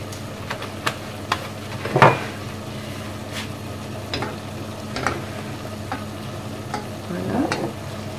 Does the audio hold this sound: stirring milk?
yes